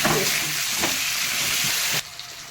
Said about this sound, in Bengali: একটুখানি লাল লাল করে একটু কষিয়ে নেবো